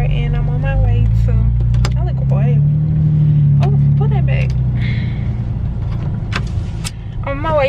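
A steady low engine rumble and road noise fill the cabin of a moving car, with a person talking over it throughout.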